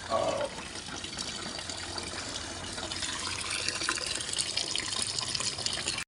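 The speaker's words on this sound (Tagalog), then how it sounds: "nagumpisa na ang patak ng ulan" Rain begins falling at a house construction site during a concrete pour, a steady, close hiss of drops spread evenly across the scene with no voices.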